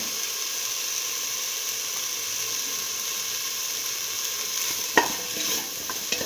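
Mint okra potato rice with mixed spices and turmeric is stirred in a hot pan, giving a continuous soft sizzle and hiss with a few sharper spoon scrapes near the end.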